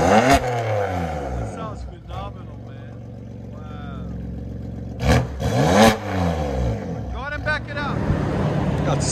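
BMW M3/M4 3.0-litre turbo engine with a straight-pipe exhaust, revving in several sharp bursts that rise and fall, loud and close, with people talking between the revs.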